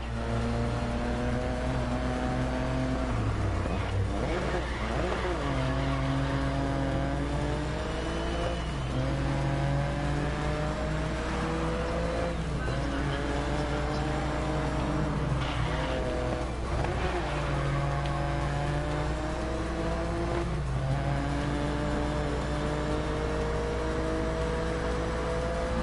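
A race car engine in the Grid Legends racing game revs hard and continuously, climbing through gears with repeated upshifts and rising pitch sweeps, loud and close for the whole stretch, with occasional tire squeal and no clear talk.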